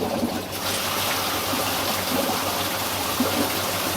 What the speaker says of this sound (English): So I'm going to turn the pumps on. It'll just take a while for the flume to prime.